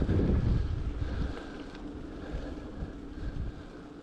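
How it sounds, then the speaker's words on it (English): Cold wind blows across a rocky Scottish hill near Mount Blair in Glenisla, a low rushing roar buffeting the microphone, strongest at first and then easing to a steadier breeze. "Whoa, crazy cold wind there."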